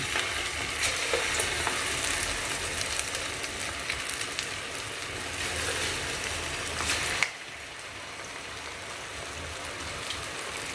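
Small pinches of rice flour bonda batter deep-frying in hot oil, a loud steady bubbling sizzle that drops abruptly to a quieter simmer partway through, with no voices.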